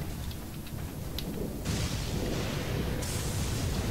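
A lightning attack from the lightning sheep in the video game Elden Ring: a steady, loud crackling rumble like thunder and rain, swelling with bright static bursts partway through and continuing without pause.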